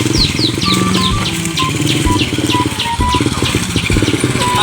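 A Kawasaki KLX motorcycle engine chugs loudly and close by in an uneven, rhythmic putter, with bird chirps repeating faintly in the background.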